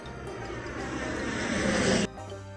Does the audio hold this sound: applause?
no